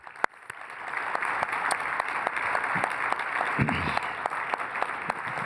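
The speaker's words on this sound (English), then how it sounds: "let's give a big round of applause." A crowd applauds steadily, a dense wash of clapping with a few sharper claps standing out, sustained throughout and fairly loud.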